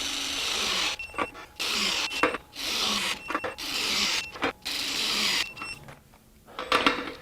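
A Makita XWT14 18V cordless impact wrench torques five lug nuts to 430 ft-lbs, giving repeated bursts of rapid hammering, each about a second long, separated by short pauses, close by with no talk.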